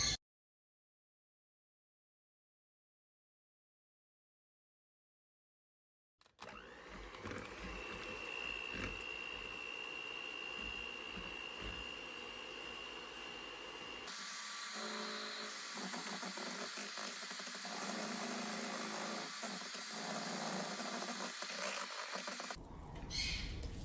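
Four eggs are beaten for batter after a stretch of silence, giving a steady, loud, whirring rattle that shifts to a harsher, brighter tone partway through and runs without talk.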